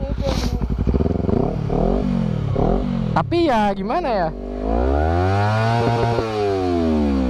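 A Honda CBR250RR sport motorcycle fitted with an Akrapovic exhaust revs hard in sport mode on the road, with sharp rising and falling engine sweeps and a loud close howl, while a rider talks over it.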